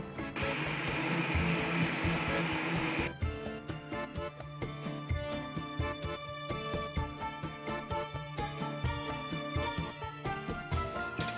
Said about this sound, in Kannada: ತರಿ ರುಬ್ಬೇಕಂತ ನೋಡ್ಬಿಡೋಣ